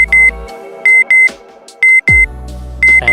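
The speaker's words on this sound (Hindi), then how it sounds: "टाइम हो चुका था एंड अलार्म बज रहा था" An alarm clock beeps in short, sharp electronic bursts, some in quick pairs, separated by gaps, loud and close with no voices.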